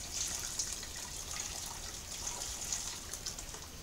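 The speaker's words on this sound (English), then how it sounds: "I'll just top this water up every now and then when I see it getting close to the grain bed" Hot sparge water at about 77 degrees trickling gently onto the grain bed of an all-grain IPA mash, a soft continuous splashing and dribbling at close range with no talk.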